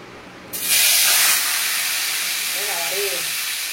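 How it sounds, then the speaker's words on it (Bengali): Fish dropped into hot oil in a home kitchen gives a sudden loud sizzling hiss that swells at once, then settles into a steady frying crackle, with a brief soft voice near the end. "তেল গরম হয়ে গেছে, এবারে এই মাছটা দিয়ে দেবো।"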